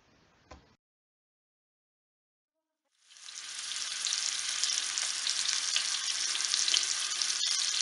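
Butter and extra virgin olive oil in a pan. A brief tap is followed by a couple of seconds of silence, then a loud, dense sizzle starts and keeps going steadily, close by with no talking.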